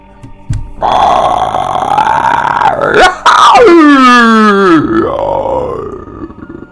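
A long, loud, drawn-out belch with a deep grinding growl that rises and then sweeps downward, close up.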